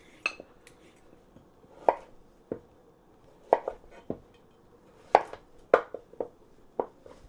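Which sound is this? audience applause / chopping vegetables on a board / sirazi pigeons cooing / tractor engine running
chopping vegetables on a board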